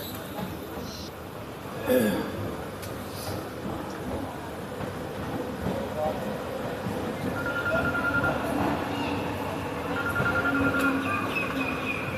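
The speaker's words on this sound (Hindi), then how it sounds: "भानुबली स्टेशन को स्किप करती हुई अपनी ट्रेन।" A 64511 MEMU passenger train running through Bhanupali station on the Haridwar–Una line via Nangal Dam, a continuous rumble of rolling wheels with faint rail squeals and one sharp knock near the start.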